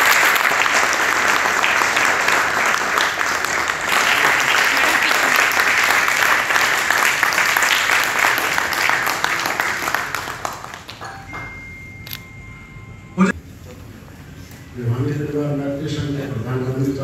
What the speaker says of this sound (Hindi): एक उनका पहले तालियां बजा के स्वागत करें